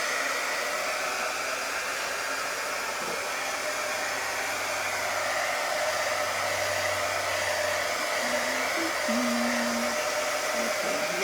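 Hair dryer blowing on wet paint on a stretched 8 by 10 canvas, a steady close whooshing roar that holds throughout with slight shifts in tone.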